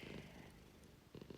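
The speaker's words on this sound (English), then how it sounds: "hey Lucy, my cat, sorry" A house cat purrs very faintly and close by in soft rhythmic pulses, fading in the middle and returning at the end, with no talking over it.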